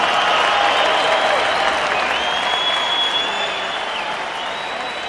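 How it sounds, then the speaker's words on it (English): A large boxing crowd applauds continuously, a thick wash of clapping and cheering that slowly fades in loudness. "a round of applause for these two 126-pound warriors."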